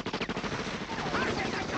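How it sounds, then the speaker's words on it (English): Rapid gunfire from a Quentin Tarantino film, Once Upon a Time in Hollywood, plays on a screen being watched, a dense run of bursts lasting under two seconds with voices faintly mixed in. "All the shooting."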